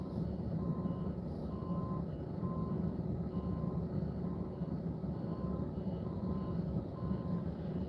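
A truck backing up at a blocked city intersection, its reversing alarm beeping at a steady, regular pace over a low rumbling engine and traffic noise, with no talking.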